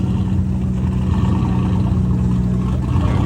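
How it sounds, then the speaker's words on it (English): A truck engine revs at a car meet with a Nick Williams throttle body fitted. It gives a loud, steady, deep rumble up close that barely changes across the clip, and nobody talks. "And that truck sound pretty good"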